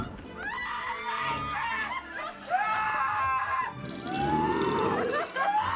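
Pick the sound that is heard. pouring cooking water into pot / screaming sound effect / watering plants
screaming sound effect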